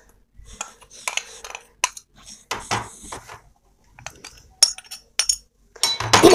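Instant jalebi batter being mixed in a bowl, with intermittent clinks and scrapes of a utensil against the dish in short irregular bursts, close by and with no talk.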